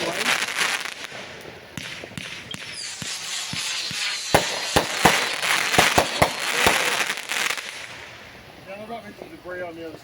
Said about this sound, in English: More fireworks coming out here.